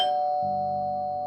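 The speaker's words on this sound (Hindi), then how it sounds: "अगले दिन मोनिका दरवाजे पर है और गेट की घंटी बजती है।" A gate doorbell at a home rings once, a clear ding-dong chime up close, its tone ringing on and fading with no voices.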